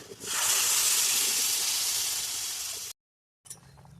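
Water poured into hot, fried-down curry for a double-yolk egg dish erupts in a loud, broad hiss of steam that holds steady for about three seconds, then cuts out before a softer sizzle resumes.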